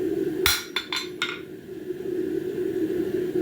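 Four quick hammer blows ring out on a metal bar being squared off, sharp clinking strikes close together near the start, followed by a steady low hum with no further hits.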